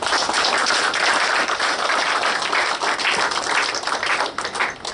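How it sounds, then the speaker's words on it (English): Sustained applause from a sizeable crowd at a reception in the House of Commons, dense steady clapping that holds strong throughout and begins to thin near the end. "please give yourselves a round of applause for this support."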